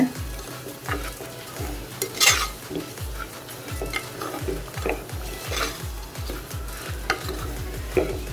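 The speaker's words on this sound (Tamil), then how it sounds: "இதில் 2 நிமிஷம் இந்த ஆயிலே நல்லா ரவை வதங்கட்டும்." Wheat rava being stirred and roasted in oil with sautéed onions for upma, a spoon scraping the pan in a steady rhythmic pattern over a soft continuous sizzle, with occasional metallic clinks, close and alone.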